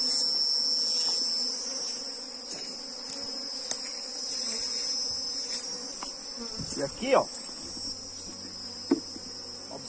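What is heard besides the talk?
bees buzzing around beehive box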